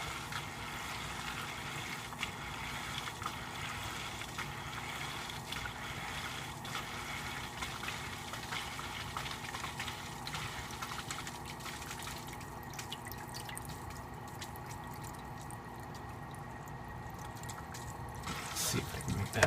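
A DIY surface skimmer refitted onto a filter primes itself, giving a steady, close trickle and gurgle of running water that continues without pause.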